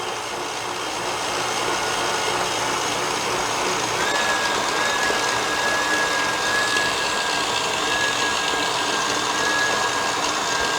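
Electric mixer blending chocolate cake batter in a bowl, a steady loud motor whir running unbroken for the whole stretch with no talk.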